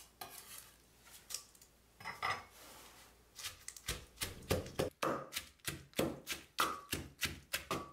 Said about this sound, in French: Je les écrase dans un mortier.